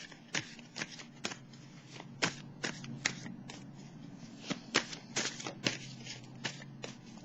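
Tarot cards being handled and shuffled before a card is drawn, a close series of crisp card flicks and riffles in an uneven rhythm with short gaps between.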